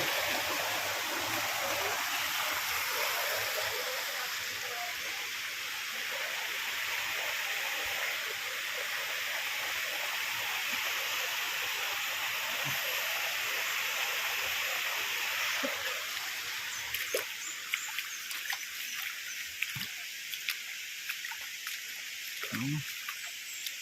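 Ambon Ambon Falls in Tagaytay heard as a steady, broad rush of falling water that holds evenly throughout, with faint scattered knocks and a brief bird-like call near the end.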